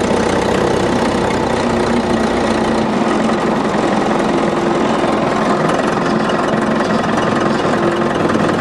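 A tractor engine labours steadily while pushing against a Ford or Dodge truck bumper on a farm, a loud, continuous low rumble with no break or talk.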